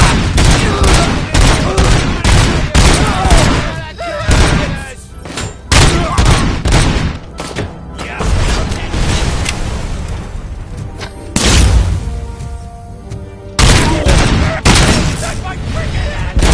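Gunfire and a fusillade of shots hammering at Robocop, dense bursts of automatic fire and heavy thuds in loud repeated volleys with brief gaps, voices shouting beneath the racket.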